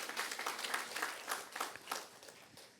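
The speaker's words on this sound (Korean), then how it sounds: "다시 한번 박수 한번 하겠습니다." A church congregation claps together in a brief, moderately loud burst, the individual hand claps forming an uneven rhythmic patter that thins out toward the end.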